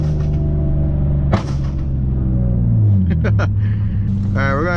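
A Nissan Maxima swapped to a six-speed manual pulls hard, its engine droning loud and close with rising harmonics and an abrupt shift break, while people talk over the roar.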